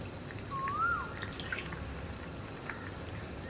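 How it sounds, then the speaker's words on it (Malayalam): Water trickles and drips into a pot of ivy gourd curry, a few soft splashes over a low background hum. No one speaks. "കുറച്ച് വെള്ളം ചേർക്കുക."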